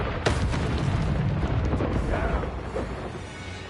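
A Confringo blasting spell bursts in Hogwarts Legacy with a dense, rumbling boom that fills the clip. Sharp crackling pops ride on top, and the blast fades slowly into a sustained roar without any voices.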